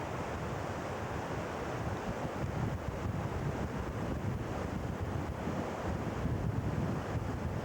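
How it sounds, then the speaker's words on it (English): Strong wind on a river trip in the open, roaring and buffeting the microphone continuously, a dense, steady rumble with no voices. "The wind is still pretty strong"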